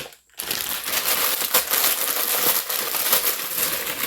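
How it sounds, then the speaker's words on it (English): Broccoli cuts are poured from a crinkly plastic bag into a crockpot, giving a continuous rustling, crinkling, tumbling rush that is loud and close and lasts about four seconds after a brief silence. "I'm going to take the broccoli and I'm going to dump it in."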